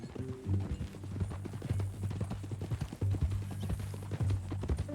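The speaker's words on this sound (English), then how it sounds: "That new horse? Some folk buy ranches, some buy horses." Horse hooves clip-clopping in Red Dead Redemption 2, a steady walking rhythm of muffled hoofbeats repeating close by under a low droning tone, with occasional faint voices.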